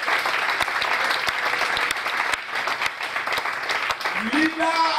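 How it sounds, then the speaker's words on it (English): A church congregation at a workers meeting claps loudly and continuously, with sharp individual claps popping out over the dense applause and a voice rising near the end. "If you are clapping for God, for Jesus, concerning him,"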